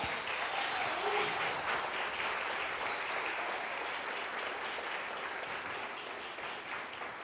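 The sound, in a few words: church congregation applause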